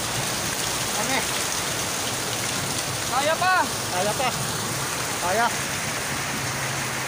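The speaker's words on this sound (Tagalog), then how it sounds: "Matindi talaga ang ulan." Heavy rain pours down on a road in Tagaytay, a dense, steady roar that fills the whole clip, with brief voices calling out over it now and then.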